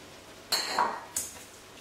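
A saucepan set down for caramel from sugar and a little water gives two close metallic clinks, the first ringing briefly before fading, the second sharper and shorter, with no talking.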